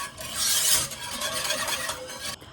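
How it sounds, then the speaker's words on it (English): Rapid rasping scrape of a whisk beating honey into a mixture in a bowl, continuous for a couple of seconds and fairly close, with no talking. "I'm going to whisk it till it's incorporated"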